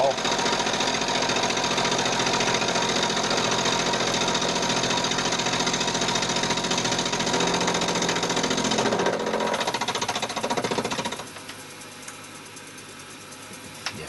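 A mini lathe cuts metal with a steady, loud mechanical whir and chatter for about ten seconds, then winds down to a quiet hum with a faint click near the end.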